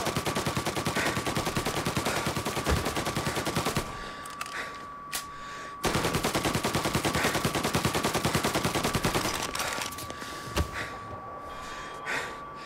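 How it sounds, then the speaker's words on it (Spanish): Sustained heavy gunfire in Mafia 3 Definitive Edition on PS4, a dense rapid stream of shots running for several seconds, a brief lull, then another long barrage with scattered single cracks, loud and close. "¿Quién está disparando?"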